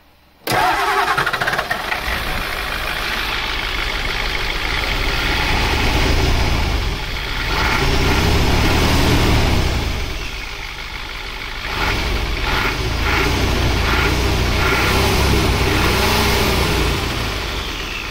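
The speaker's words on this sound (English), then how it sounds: "That's what truck number 2 sounds like." A 1988 pickup truck's 3.1 IDI turbo diesel engine cranks briefly and catches, then settles into a steady loud idle with a rough diesel clatter and some rising and falling revs, with no talk over it.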